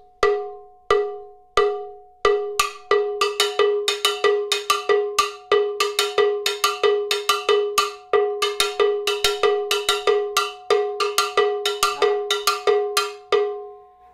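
A hand-held cowbell (campana) struck in steady, even time for a salsa-style beat, with sharp, ringing metallic hits, sparse at first and then a regular close-up pattern played alone.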